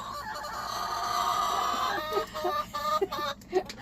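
Chickens cluck in a coop, a drawn-out throaty call from a hen followed by several short, choppy clucks close by, with no one speaking over them.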